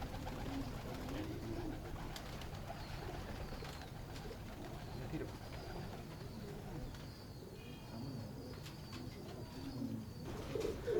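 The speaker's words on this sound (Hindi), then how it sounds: "ये हमारा बूरा कबूतर है" Pigeon cooing, apparently from a brown pigeon kept by a fancier in Wassanpura, repeats softly over a steady background hum and rustle throughout.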